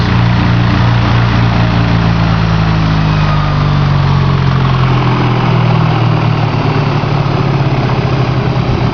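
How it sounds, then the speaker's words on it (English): A half-horsepower electric motor runs at full tilt, drawing 8.5 amps, giving a loud, steady, unbroken hum with a deep low drone throughout, and no voices. "So it's a stout little motor for half a horsepower"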